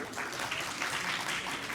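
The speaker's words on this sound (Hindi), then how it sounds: "नहीं है तो फिर अपने लिए तालियां बजाएं बहुत सारी" A crowd at a World Haemophilia Day school event claps for themselves, a soft, fairly distant patter of many hands holding at an even level, with no voices on top.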